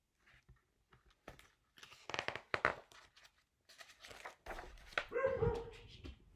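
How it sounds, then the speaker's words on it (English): A dog barks in the background indoors, with scattered sharp barks and whimpers that build into a louder cluster toward the end. "Sorry for the dog barking in the background."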